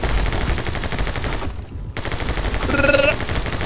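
Rapid automatic gunfire from the action video game My Friend Pedro, loud and sustained bursts with a brief gap partway through, playing alone without speech.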